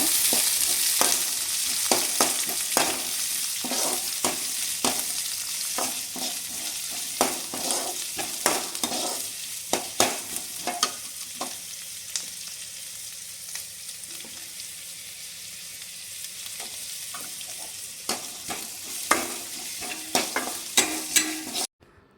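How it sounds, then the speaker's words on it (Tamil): Mustard seeds, curry leaves and onions frying in hot oil for a chickpea gravy give a steady close sizzle, with repeated scraping stirs and small pops throughout. "எண்ணெய் சூடானதையும் கடுகு, கருவேப்பிலை, வெங்காயம் எல்லாத்தையும் போட்டு நல்லா வணக்கி விட்டுக்கலாங்க"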